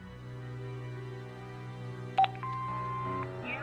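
An answer phone in the Broken Sword 5 video game starts message playback: a low electronic hum, then a sharp beep and a few synthetic tones near the end, with no voices.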